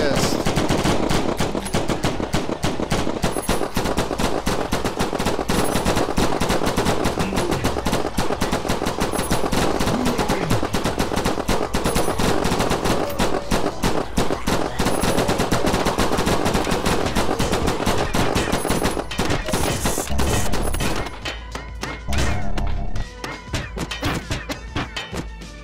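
Relentless automatic gunfire blasts a final boss in the VR shooter Dimension Hunter, a dense, loud barrage of rapid shots that runs almost unbroken before thinning out near the end.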